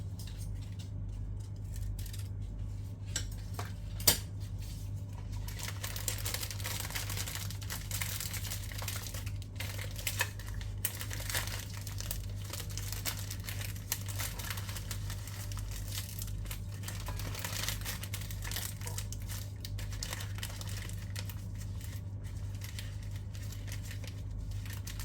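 A ribbon for tying up mini cookies is handled with soft, intermittent crinkling and rustling. The sounds are faint and sit over a steady low hum for a long stretch, with no talking.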